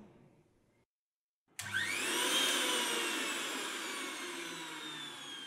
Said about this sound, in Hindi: मिक्सी चल रही है